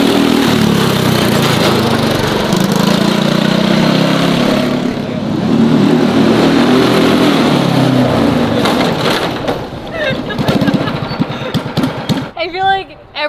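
A Nissan NISMO car is driven hard with a loud, rough exhaust roar that crackles and pops near the end, the engine note rising and falling close by, with talk in the car.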